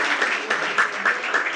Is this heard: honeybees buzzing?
no